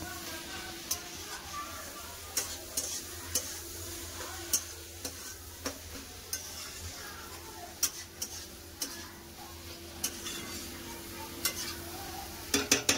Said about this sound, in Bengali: ভালো করে মশলাতে কপিটাকে কষে নিয়েছি